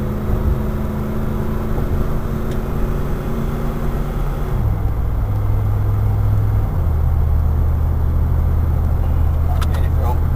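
Truck engine drones steadily while driving, with a gear change partway through shifting the low hum to a new pitch; the sound is close and continuous, and speech overlaps at times.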